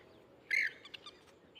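One sharp, bright bird chirp rings out against quiet, foggy village morning surroundings, followed by a few softer, shorter calls.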